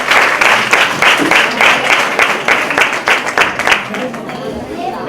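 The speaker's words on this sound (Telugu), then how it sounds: "మనస్ఫూర్తిగా వారి చప్పట్లతో అభినందన తెలియజేస్తున్నాం" Audience applause welcoming a bishop and priests at a new church blessing in Venuthurumilli, Vijayawada: dense, sustained clapping from a crowd, steady and loud throughout, thinning slightly toward the end.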